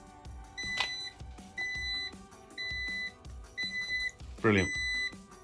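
Repeated electronic beeps from the other-side turn indicator of a HITWAY H9 Pro e-scooter pulse evenly about once a second, close and clear, while someone speaks briefly between them.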